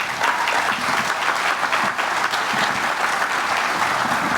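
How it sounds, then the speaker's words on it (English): Steady, dense audience applause at a county economic development event, welcoming Commissioner Robin Fisher, continuous and even throughout. "Ladies and gentlemen, your applause, please, for Commissioner Robin Fisher."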